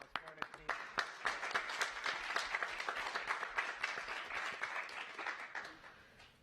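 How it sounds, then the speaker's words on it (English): An audience applauds the NASA Ingenuity Mars helicopter team, with a burst of clapping that swells and holds at moderate loudness before tapering off near the end, with some voices mixed in. "join me in applause for the team"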